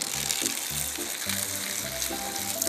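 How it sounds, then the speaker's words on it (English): Water from a jug tipped over a running laptop, a splashing, trickling pour with gurgling bursts that carries on steadily and close for the whole stretch, with no talking. "I'm going to tip this jug of water over it."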